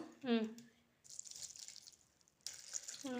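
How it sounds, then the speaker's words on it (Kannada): Water poured into a spice mixture of black pepper and salt before grinding, a soft, close splashing trickle that comes in two stretches, with a brief voice at the start and end. "ಈಗ ಇದಕ್ಕೆ ನೀರು ಹಾಕಬೇಕು."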